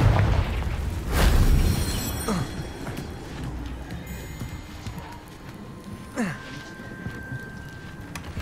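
A Confringo blasting curse bursts in Hogwarts Legacy with a heavy, booming explosion near the start that decays into rumbling debris, while horse hooves clip-clop and later sharp impacts ring out in the game scene.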